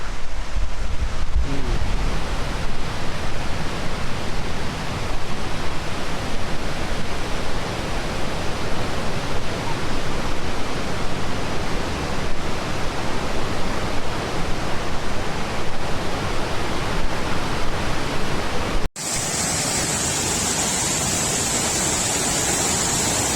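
Loud, continuous rushing water roars steadily at Tad Sae waterfall near Luang Prabang, Laos, a broad wash of noise that changes character abruptly near the end.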